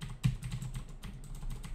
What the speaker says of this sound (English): That's the sound of the mechanical keyboard.